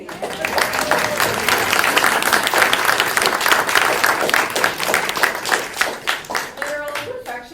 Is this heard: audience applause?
yes